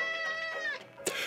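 A pet cat meows loudly and close by in a drawn-out, wavering call that ends with a short sharp sound, heard indoors with no talking.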